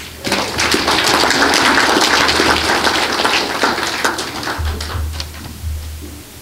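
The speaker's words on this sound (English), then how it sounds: "They deserve a round of applause." A round of applause breaks out at a Lions club zone dinner meeting, a dense burst of clapping from an indoor crowd that swells quickly, holds for several seconds, then thins out.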